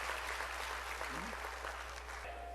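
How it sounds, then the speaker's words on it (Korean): Applause from a church congregation during a sermon on the Holy Spirit, steady and fairly faint, running for a few seconds as a continuous wash of clapping with a low hum beneath it. "박수로 하나님께 영광 돌려"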